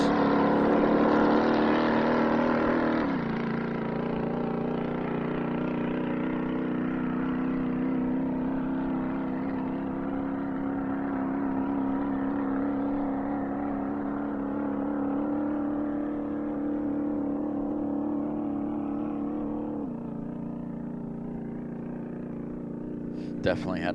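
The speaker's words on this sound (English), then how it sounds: "Definitely had to let you guys listen to that engine." Belly tanker land speed racer engine running down course at Speedweek, a loud sustained drone that steps up in pitch twice as it shifts, then slowly fades with distance.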